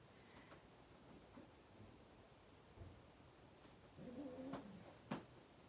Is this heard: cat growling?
yes